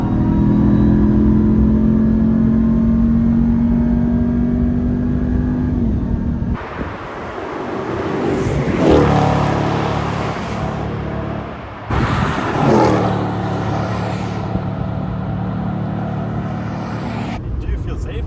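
A supercharged 707 hp Dodge Ram TRX truck accelerates hard on the German Autobahn, its engine droning and rising loudly with gear changes and a rising supercharger whine, while people talk inside the cabin.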